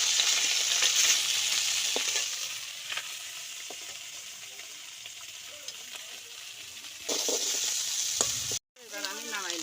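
Small chanda fish fry in hot oil in a kadai, a continuous dense crackling sizzle with occasional sharper pops, close and steady throughout, briefly cut off near the end.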